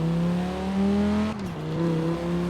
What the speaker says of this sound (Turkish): Arabada şöyle bir farklı bir ses geliyor